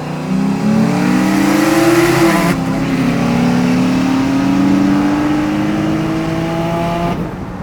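A turbo V6 Honda Accord races a cammed G8 side by side, a loud, close engine roar holding a steady climbing drone with a brief dip at a gear change.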